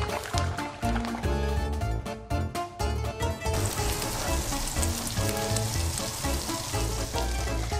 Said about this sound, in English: When the guanciale starts to fry, Luciano says lower the heat because it shou